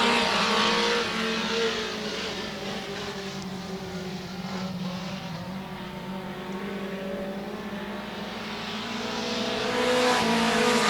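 Race cars roar around the Heart O Texas Speedway oval just after the green flag, a loud, continuous multi-engine drone that swells and fades as the pack passes, with no voices.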